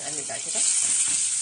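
Moussaka with garlic and a splash of vinegar sizzles steadily in a pan while being stirred, a close, continuous frying hiss with faint scraping, no talking.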